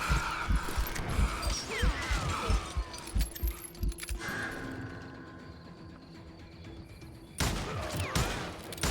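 Rapid gunfire in the western shooter game Call of Juarez Gunslinger, dense bursts of shots with metallic clatter, a lull, then more shooting, loud and close, no talking.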